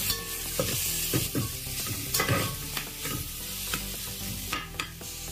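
Tomato, green chili and chopped spinach are stirred in a hot pan for chicken soup, with a steady sizzle under repeated scraping and clinking strokes of a spoon against the pan, close and moderately loud.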